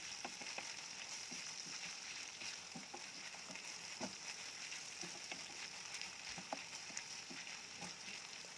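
Minced meat frying with spices in a pan for a koshari-shop style tagine, a steady close sizzle with faint scattered clicks of stirring and no talk.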